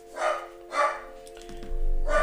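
A dog barks twice at a moderate distance with a short gap between, then a low rumbling noise rises at the end; the barks are fairly faint over a steady hum.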